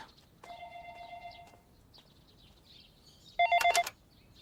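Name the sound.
telephone ringing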